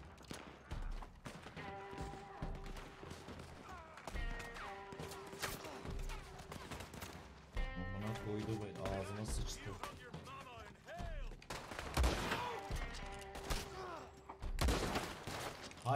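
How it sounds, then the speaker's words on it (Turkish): Gunfire in the video game Red Dead Redemption 2 breaks out in scattered sharp shots and bursts among game sounds, while people talk over the action. "Sağ taraftan sıkıyor."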